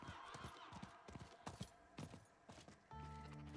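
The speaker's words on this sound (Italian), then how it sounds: "Sì, fa una specie di, di nitrito spettrale." A spectral horse mount in the Diablo 4 video game running, with a steady clip-clop of hooves at a moderate distance and a brief ghostly whinny, followed at the end by a sustained tonal game sound.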